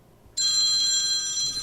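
A telephone bell starts abruptly and rings loud and continuous close by during a comedy show, one sustained electronic trill with no talking over it.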